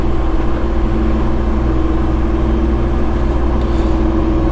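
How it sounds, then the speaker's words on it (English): A Cummins X-15 diesel in a semi truck holding speed while descending the backside of Monteagle grade: a steady, loud, droning engine hum with no break in the rumble and no talking. "the old X-15 Cummins is doing a fine job holding us at our speed"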